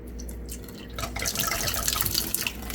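Water trickles and sputters from the pressure relief valve on the easy-clean lid of a pink Silicanite 40oz tumbler. A quiet, close, continuous splashy hiss starts about a second in and lasts to the end.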